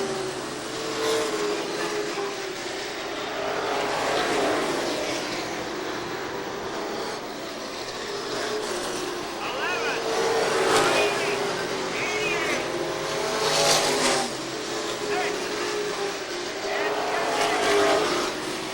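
Stock cars race around Seekonk Speedway, engines droning and swelling as they pass, with a race commentator talking over the steady roar across the whole stretch.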